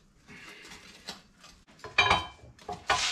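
A part screwed by hand onto a Harbor Freight tire changer: close metallic clinks, ratcheting and scraping in uneven bursts, loudest near the end, with no talking.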